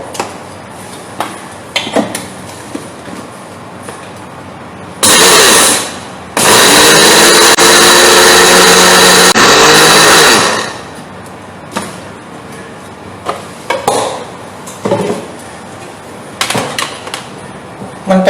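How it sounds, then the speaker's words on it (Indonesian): A kitchen blender grinds granulated sugar and palm sugar in two loud, roaring bursts of several seconds each with a brief pause between, while a person talks before and after during a baking demonstration. "Gula pasir dan gula palem kita blender agar lebih halus dan mudah tercampur."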